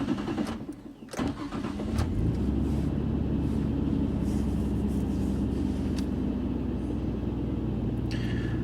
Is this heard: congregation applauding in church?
no